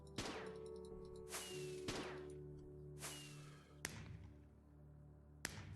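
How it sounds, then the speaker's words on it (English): Fireworks from a celebratory item in the video game Regrowth go off in a quick string of sharp bangs and crackling bursts, each with a brief hissing tail, fairly loud over a low steady background hum. "is that a random firework?"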